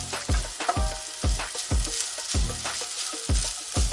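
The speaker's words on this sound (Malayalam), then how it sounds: "അപ്പോൾ ഇനി ഇത് നമുക്ക് നല്ലപോലെ ഒന്ന് ബ്രൗൺ ആകുന്നത് വരെ ഒന്ന് വഴറ്റിയെടുക്കാം" Ginger sautés in coconut oil in a pan, a continuous sizzle punctuated by regular, rhythmic scraping strokes of a spoon stirring it, close and fairly quiet, with no voices.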